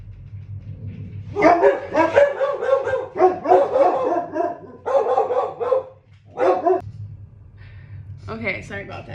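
Several dogs bark loudly in repeated clustered bursts with yips mixed in, close by, over a steady low background hum and possible voices.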